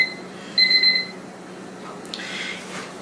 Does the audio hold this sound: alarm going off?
yes